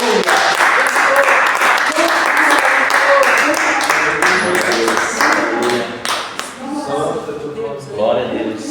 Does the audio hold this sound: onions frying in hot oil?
no